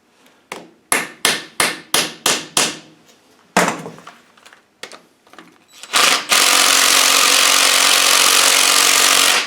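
A run of sharp, evenly spaced hammer strikes on a T20 bit during an R380 gearbox overhaul, then a few scattered knocks, before a loud continuous whir of a power tool takes over.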